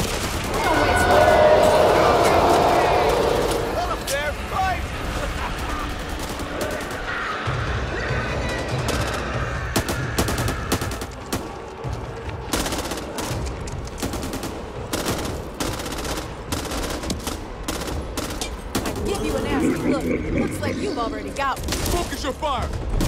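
Gunfire in Back 4 Blood: rapid bursts of automatic fire rattle almost continuously, close and loud, mixed with crashes and shouted voices throughout.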